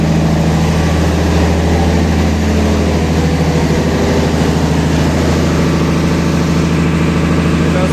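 Engine of the Sundarban 12 passenger launch heard close up in its engine room, a loud, deep, steady diesel drone with a constant rhythmic throb and no pause.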